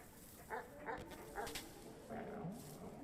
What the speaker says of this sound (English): I hear our dog friends up there